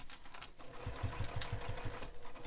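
A sewing machine stitching slowly around a curve in a bag panel, a quiet run of evenly spaced thumping needle strokes, close and faint.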